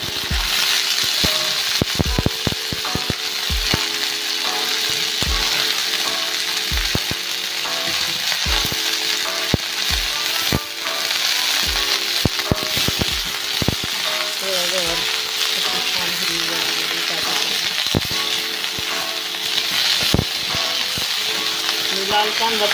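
Cluster beans go into onions frying in a pan, giving a loud, steady sizzle throughout with scattered sharp clicks and scrapes from stirring, and no talking.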